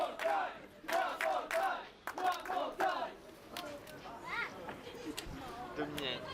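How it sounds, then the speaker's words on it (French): Wrestling crowd at an ASCA match chanting and shouting for more in rhythmic bursts, a moderate distance away, with a commentator's voice speaking over it. "Et la foule qui en demande un autre"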